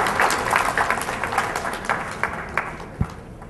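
An audience applauds at a feedback session, a burst of scattered clapping that starts moderately loud and thins out over a few seconds, ending with a last sharp clap.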